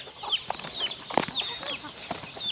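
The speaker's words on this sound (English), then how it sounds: "So these strange looking birds here are actually guinea fowl." Several guinea fowl give harsh, scratchy calls and sharp clicking cries in quick irregular bursts, fairly close, with some clucking mixed in, in a garden.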